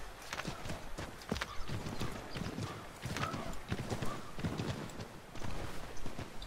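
A horse in the video game Assassin's Creed 3 clip-clops along in a steady walking rhythm, its hoofbeats moderately close, with a brief neigh among them.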